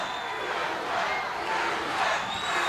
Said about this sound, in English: But the crowd yelling Bruiser